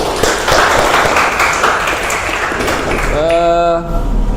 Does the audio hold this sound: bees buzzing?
no